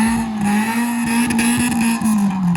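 A Toyota KE70 car engine drones steadily through a redone exhaust, with a loud, close, sustained tone that wavers slightly in pitch for a couple of seconds with no voices.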